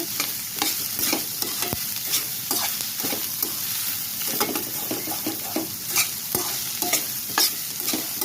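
Soya chunks fry in a pan for spring roll filling, sizzling steadily while a spatula scrapes and stirs them in repeated close strokes, with no talking.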